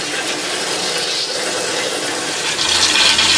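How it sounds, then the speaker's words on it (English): Clean water flushes through a tankless water heater after descaling with powder or chemical: a loud, continuous rushing gush, swelling slightly toward the end, with no voices. "we have to flush through the system with clean water"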